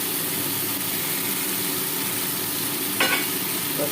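Pointed gourd, potatoes and fried shrimp sauté together in a pan, giving a steady, dense sizzling hiss with one brief clatter near the end.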